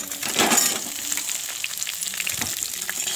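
Dried badi fries in a pan with a loud, crackling sizzle that swells at the start as the pieces go in, then settles into a constant hiss with scattered pops and a scrape of stirring.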